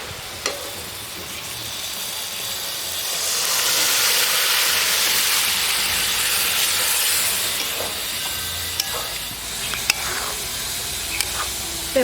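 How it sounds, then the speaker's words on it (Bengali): Boiled lentils poured into sizzling spice masala in a pan for a village-style Bengali koi fish curry: a steady frying hiss that swells into a louder rushing sizzle, then settles, with a few clinks from stirring. "এবার আমি এর মধ্যে সেদ্ধ করে রাখা ডালগুলো ঢেলে দেবো।"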